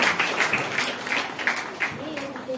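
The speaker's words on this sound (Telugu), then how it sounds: "చప్పట్లు కడతాం గట్టిగా" An audience claps in scattered, uneven bursts, moderately loud, with a voice briefly audible underneath.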